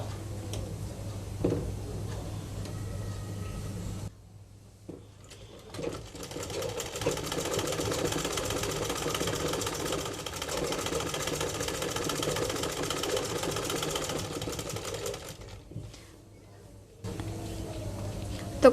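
A sewing machine stitches gathers onto a baby frock in a long, steady ticking run lasting most of the stretch, broken by short pauses at the start and near the end, with a brief voice in between.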